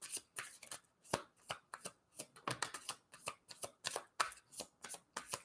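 Oracle cards being shuffled during a live reading, a quick run of papery riffling flicks repeating steadily throughout, close and fairly quiet with no talk over it.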